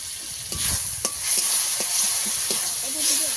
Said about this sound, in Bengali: ভালো করে মশলা কষিয়ে নেব।